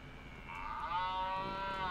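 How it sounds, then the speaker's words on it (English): A cow lets out a long, drawn-out moo in the video game Happy's Humble Burger Barn, rising in from a low background hum and holding steady, moderately loud and alone. "The cows everywhere."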